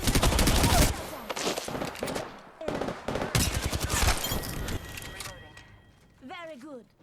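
Gunfire in the video game Apex Legends comes in loud, rapid automatic bursts broken by short gaps and mechanical clicks, with a voice talking over the shooting.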